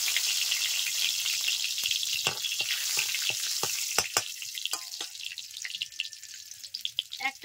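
Whole white cumin and a bay leaf sizzle steadily in hot mustard oil, a close, continuous frying hiss broken by scattered pops and small clinks near the end.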